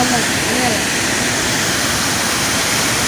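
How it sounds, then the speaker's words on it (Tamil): Hogenakkal waterfall roars with loud, dense rushing water, a constant broadband wash that fills the scene close by without letting up. "இங்க பாரு ஃபால்ஸ்"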